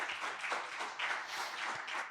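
Audience applause at a talk on artificial intelligence as a speaker is introduced, a quiet, fairly distant patter of clapping that rises and falls in small waves.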